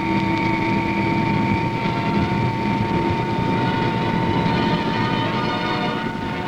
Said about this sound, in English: the first of 3 Viscount airliners ordered touches down at Whenuapai, Auckland